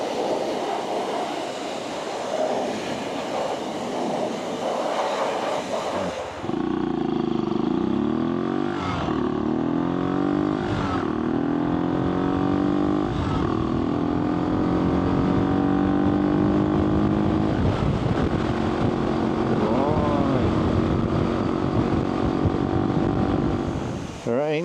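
AJP PR7 motorcycle engine running while riding, a loud steady drone that rises and shifts pitch through gear changes, with wind noise throughout.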